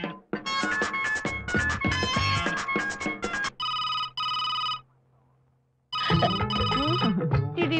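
A phone rings with a melodic ringtone, bright repeating tones that play, break off briefly and then resume, loud and close with no talk over it.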